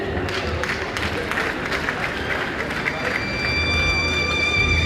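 An audience at a national health summit applauds with steady, dense clapping that fills the room and continues evenly throughout, swelling slightly toward the end.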